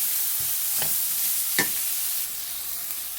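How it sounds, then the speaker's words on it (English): Garlic sizzling steadily in a hot frying pan for tofu tikka masala, with cumin about to join, giving a constant bright hiss with a few soft scrapes of a spoon stirring, close and continuous, no voices. "Keep moving that garlic around."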